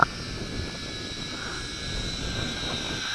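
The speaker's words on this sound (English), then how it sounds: "Great quadcopter." A WLToys V686G FPV quadcopter drone flies, giving a steady high-pitched motor and propeller whine that holds constant and fairly loud for the whole stretch with no voices.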